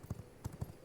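Horse hooves in the vampire survival game V Rising, a few soft, irregular clip-clop thuds at low volume as the mount settles in a farmland corner.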